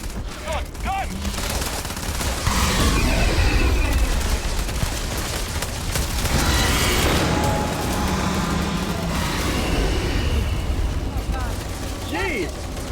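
Sustained volleys of gunfire in the space game Starfield roll on for the whole stretch, loud and dense, with scattered mechanical clanks and voices talking over the shooting.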